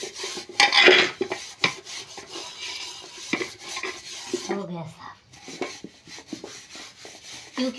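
Dishes and pots being washed at home, with scrubbing, rubbing and metal utensils clattering in irregular bursts, close and fairly loud, with no talk.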